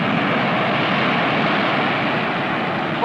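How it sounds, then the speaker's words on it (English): A jet roars overhead as a steady, broad, loud rush that fills the whole moment without a break. "Oh, look, there goes a jet."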